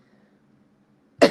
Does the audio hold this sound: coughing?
yes